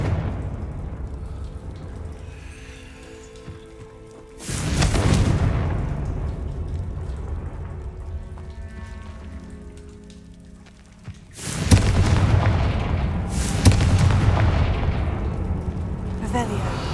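Booming Confringo blast spells from Hogwarts Legacy burst out in three heavy broadband hits around 4.5, 11.5 and 13.5 seconds, each decaying into a rumbling tail over a low game ambience.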